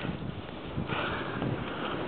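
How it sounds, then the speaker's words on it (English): Strong gust of wind buffeting an outdoor microphone, a steady loud roaring rush that swells slightly midway and holds throughout without a break. "This is another bad wind gust coming."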